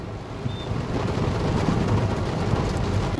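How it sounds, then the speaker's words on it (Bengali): A heavy downpour falls outdoors in Delhi at night, a dense, loud roar of rain with some buffeting wind that swells slightly and then holds steady. "এই দেখুন কি জোরে বৃষ্টি হচ্ছে।"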